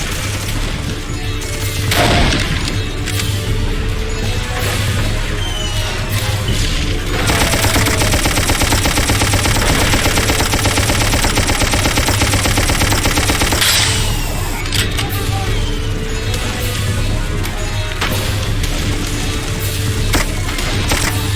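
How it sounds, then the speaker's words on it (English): Sustained machine gun fire from the video game Darkest of Days, set at Tannenberg: a loud, continuous rattling burst of automatic shots over a constant engine-like hum, with scattered gunshots before and after the main volley. "Get your ass on that gun and provide cover fire."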